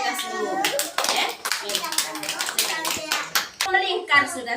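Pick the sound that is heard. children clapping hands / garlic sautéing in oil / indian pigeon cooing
children clapping hands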